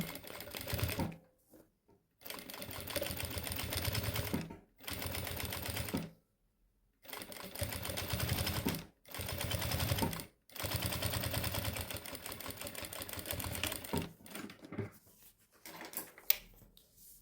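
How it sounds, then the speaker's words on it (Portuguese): A sewing machine runs in several bursts of fast, even stitching along a seam, with short pauses between runs and a few light clicks, close and fairly loud, with no talking. "Aí eu inicio a costura, retrocesso no começo, retrocesso no final."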